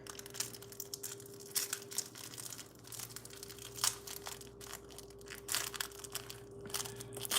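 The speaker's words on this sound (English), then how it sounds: "let me open my snack" Plastic snack wrapper crinkles and tears open up close, a series of sharp irregular crackling bursts over a quiet room with a low steady hum.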